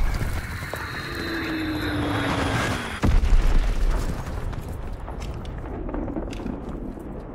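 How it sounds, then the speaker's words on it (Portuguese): Enemy mortar fire in Call of Duty: WWII team deathmatch on Xbox One: a whistling incoming shell over a steady roar, then a heavy close blast about midway, followed by a fading rumble. "Inimigos disparando morteiros!"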